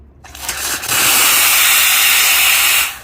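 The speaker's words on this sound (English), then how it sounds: "So let's purge the steam." Steam wand on a Quick Mill Rubino espresso machine purges in one loud, close, steady hiss lasting a couple of seconds before cutting off abruptly.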